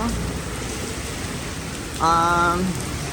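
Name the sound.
rain falling on a city street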